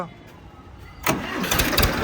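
An Escort 335 tractor engine cranks on its self-starter and catches about halfway through, its loud mid-range roar then running steadily, close by.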